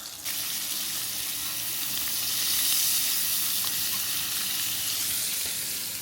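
A grass-fed, 35-day cured ribeye steak and asparagus sizzle in a pan, a steady loud hiss of frying that holds evenly throughout with no talk over it.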